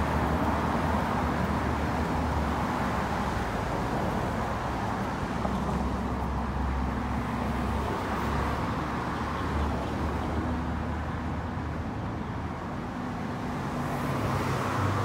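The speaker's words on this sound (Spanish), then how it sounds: "pasan los coches muy rápido" Steady road traffic with cars streaming past at speed on a nearby road, a continuous loud rumble and whoosh with no pauses and no talk.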